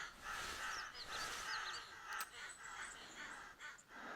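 Several crows caw in the video game theHunter Classic, harsh repeated calls overlapping at mid distance over steady wind-like outdoor ambience.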